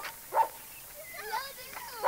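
A dog on a hillside where foxtail grass grows, chased by children, gives short sharp yips and barks spread across the clip, with whining tones in between, fairly close and clear.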